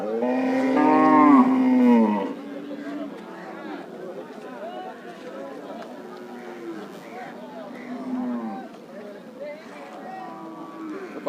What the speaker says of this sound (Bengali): দর্শক এখানে একটা গাভী বাধা আছে